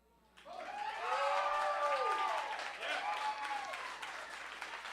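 An audience applauds at a poetry slam, clapping swelling in after a quiet start and holding steady, with whoops and cheering voices rising over the claps.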